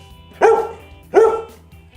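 A dog barks twice, about three quarters of a second apart, two loud close woofs over a faint low hum in a kitchen setting.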